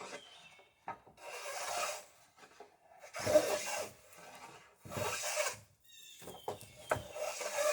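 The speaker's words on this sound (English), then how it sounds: "it's usually worth getting out the sandpaper" Sandpaper rasps along a wooden boat mast being rounded, in four or five long strokes of dry scratchy friction separated by short pauses, close and fairly loud, with no talking.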